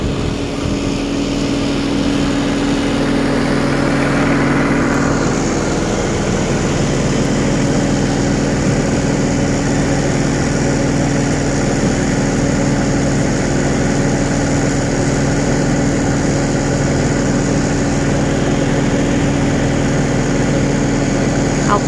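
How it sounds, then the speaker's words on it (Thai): A sugarcane harvester's heavy engine roars steadily and loudly throughout, a constant droning mechanical rumble with no break. "ที่เสียงดังๆนี่เป็นเสียงรถตัดนะคะเนี่ยรถตัดอยู่ตรงนี้"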